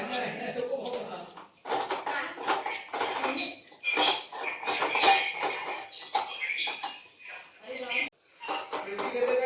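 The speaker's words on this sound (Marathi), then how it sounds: "बटाटा बारीक करून घेते" Boiled potatoes are mashed in a metal vessel for vada pav filling, with repeated scraping and clinking of a utensil against the pan coming in bursts while someone talks over the work.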